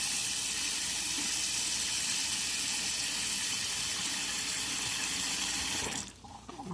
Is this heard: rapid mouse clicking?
no